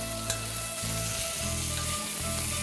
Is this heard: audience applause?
no